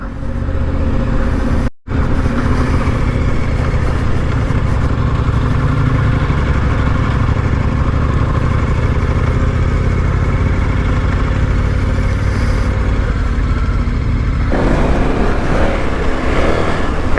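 KTM 1290 Super Adventure R motorcycle ridden on a gravel road, its engine a loud, steady drone with rushing wind and road noise, a brief dropout near the start and a slight change in tone toward the end.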